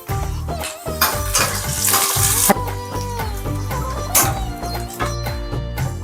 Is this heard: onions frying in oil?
yes